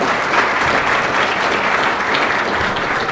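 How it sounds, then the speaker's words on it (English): Large conference audience applauding for a group being thanked, a dense, steady wash of clapping filling the room from start to finish, with no voices over it. "a big round of applause for all these folks"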